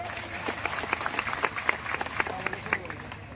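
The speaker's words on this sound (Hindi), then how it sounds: "जरा जोरदार ताली से हम लोग स्वागत कर दें" Audience at a Bihar home guard recruitment protest gathering in Patna clapping loudly to welcome a speaker, a crisp irregular patter of many hands with a few sharper claps standing out.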